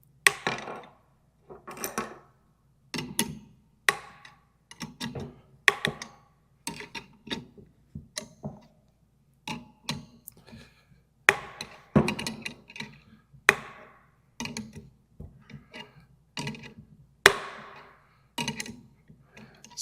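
Ratchet wrench tightening a bolt through a polyurethane upper control arm bushing on an Aston Martin front suspension, with sharp, close clicks and knocks repeating in an uneven steady rhythm.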